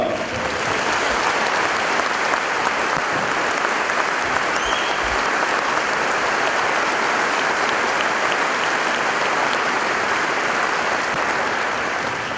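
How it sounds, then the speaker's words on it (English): Sustained, dense applause from a large commencement audience at a high school graduation, honoring graduates who will serve in the military, steady and full throughout without speech. "Let's give them a round of applause as well."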